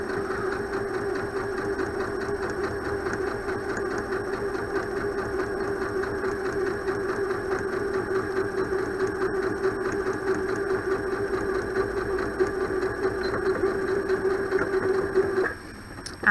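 Sewing machine stitching a French seam on a 0.5 cm seam allowance, a steady continuous motor whir with a faint rhythmic needle chatter running for about fifteen seconds before stopping.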